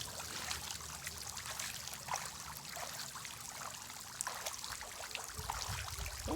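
An outdoor water sprinkler toy for kids sprays water in a steady trickling, splashing stream throughout, fairly close and moderate in level, with no talk.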